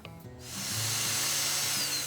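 Power drill driving fasteners to mount adjustable self-closing gate hinge base plates onto a gate post, a steady whirring whine that rises after a brief start and holds loud and close.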